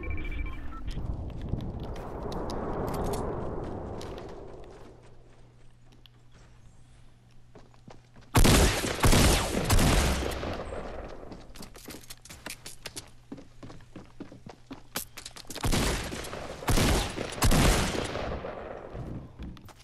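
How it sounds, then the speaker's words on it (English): Bursts of automatic gunfire from a Fortnite Battle Royale match, loud sharp volleys in two main stretches, the second one longer, with quieter in-game ambience between them. "He was getting shot at from someone else"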